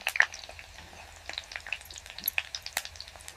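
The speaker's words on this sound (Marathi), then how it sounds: "मोहरी तडतडली ना म्हणजे फोडणी एकदम जाम जमली बघा" Mustard seeds crackle and pop in hot oil while tempering a poha chivda, a quick irregular scatter of close, sharp sizzling snaps with no talk.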